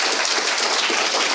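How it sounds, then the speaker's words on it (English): A crowd at a tech event's lightning talks and closing remarks claps in a dense, even wash of many hands, loud and close throughout with no voices. "Please give another applause"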